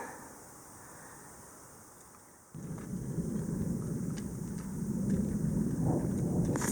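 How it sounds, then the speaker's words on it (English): A low, deep rumble of thunder rolls in and swells on a trail in the Black Hills, South Dakota, with steady rain-like hiss and wind noise outdoors. "Thunder and lightning."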